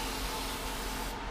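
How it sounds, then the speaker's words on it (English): Aerosol adhesive hissing from a spray can onto a Silverado or Sierra truck driver's seat cover, one steady close spray lasting the whole moment. "you have to spray both sides"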